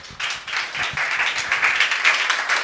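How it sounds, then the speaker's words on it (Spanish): A lecture audience breaks into applause after a talk, a lively burst of many hands clapping that holds steady for a couple of seconds. "aplauso para Teddy"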